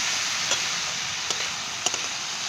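Onion and tomato frying in a pan for egg bhurji, a steady broadband sizzle with a few light stirring clicks, close and continuous with no voices.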